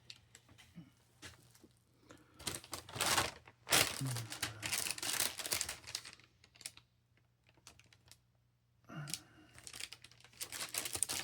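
Wax paper packaging around a hoodie being crinkled and handled, giving repeated close crackling, rustling bursts with brief quieter gaps and no talk.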